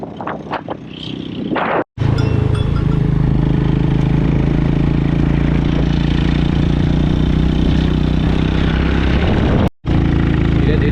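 A scooter engine labors loudly and steadily while climbing a hill on a rural road, with a continuous drone dominating throughout and a couple of brief dropouts.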